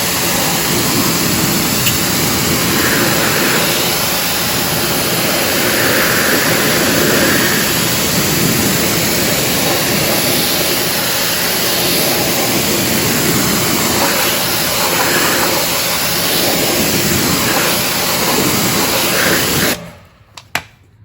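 Water spray rinsing the wheels of a 2013 Mustang, a loud continuous hiss of pressurised water running for about twenty seconds before cutting off abruptly, followed by a couple of faint knocks.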